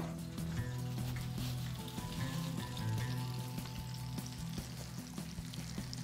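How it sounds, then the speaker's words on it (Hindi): Chicken wings deep fry in oil, giving a soft, steady bubbling sizzle with a low hum and a few faint clinks, heard alone without talk. "ये यहाँ पर मैंने इसको रख दिया फ्राई करने"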